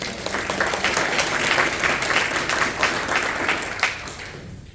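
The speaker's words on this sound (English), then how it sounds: "So we do commend you and give you another round of applause." A room full of people at a school board meeting applauds steadily, the clapping holding at an even level before tapering off at the end.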